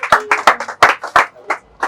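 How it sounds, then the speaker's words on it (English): A small class claps for a classmate in a sandal-making lesson, a short burst of sharp, uneven hand claps from a few people nearby, loud and close, fading after under two seconds. "Can somebody give her a round of applause?"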